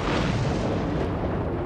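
Bombing explosions in archival war footage form a dense, continuous low rumble with a broad roar across the band, loud and steady for under two seconds.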